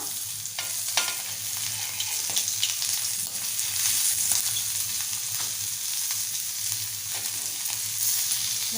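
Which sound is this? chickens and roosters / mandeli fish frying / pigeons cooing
mandeli fish frying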